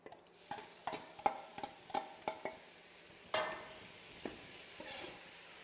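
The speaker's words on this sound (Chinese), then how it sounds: "倒入锅中煸炒" Sauce stir-fried in a hot wok for a chicken and cilantro dish, with a faint sizzle under a series of sharp, rhythmic spatula clacks against the metal, several taps in a row followed by scraping.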